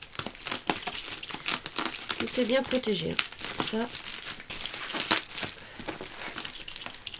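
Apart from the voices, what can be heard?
tearing tape and crinkling packaging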